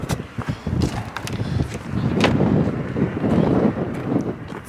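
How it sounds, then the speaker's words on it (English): Strong wind buffets the microphone by a roadside in Iceland, a rough, gusty rumble that builds and stays loud, with faint footsteps or movement mixed in. "So windy out."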